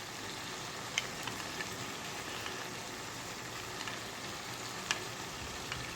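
Chicken pieces frying in a pan, a continuous even sizzle at moderate level with two sharp utensil taps against the pan standing out.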